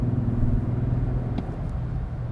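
A Lexus GX 550 in Sport Plus mode plays a synthetic engine sound into the cabin, a steady low droning hum that holds evenly throughout while the SUV drives along a back road, with no talking.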